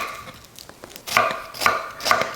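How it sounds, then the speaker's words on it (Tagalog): A knife cuts an onion into thin lengthwise slices on a board, giving several crisp chopping taps, a few soft at first and then louder, spaced about half a second apart. "Hinihiwa ko lang ito ng manipis at ng pahaba."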